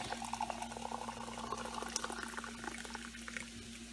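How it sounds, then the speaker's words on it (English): Hot water poured from a cup into a pot of rice for egg biryani, a steady close liquid splashing and gurgling with a constant low hum underneath, no talking. "And then I'm going to add some hot water."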